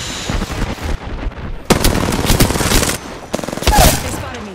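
Rapid automatic gunfire aimed at the player in the battle royale shooter Apex Legends: loud, dense bursts of shots that stop and restart, with a final heavy volley near the end.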